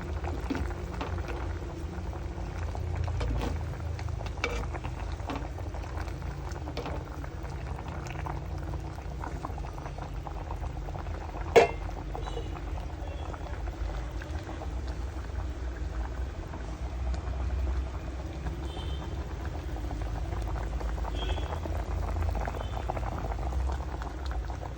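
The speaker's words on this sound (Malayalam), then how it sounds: "ഇതേപോലെ നല്ലോണം തിളച്ചിട്ടുണ്ട്." Kerala-style spicy masala fish curry boils in a pot, a steady low bubbling and gurgling simmer that runs continuously, with one sharp clink partway through and no talking.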